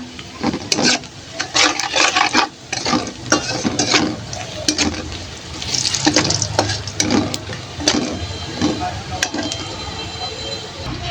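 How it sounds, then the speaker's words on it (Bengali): Onion and black cumin frying in a little oil, a steady sizzle broken by repeated sharp scraping and stirring knocks from a utensil in the pan. "পেঁয়াজ কালো জিরা ভাজা হয়ে গেছে।"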